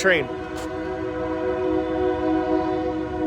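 A train horn blares in a sustained, chord-like tone as a train passes through Desert Hot Springs, loud and fairly close, with a brief voice at the very start.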